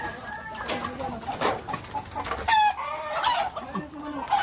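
A chicken or rooster clucks in short bursts amid a busy outdoor barangay scene, with voices and other noise around it, the calls fairly close and moderately loud.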